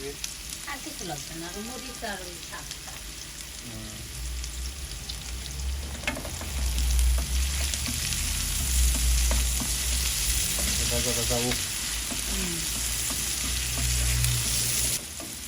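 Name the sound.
onions frying in a pan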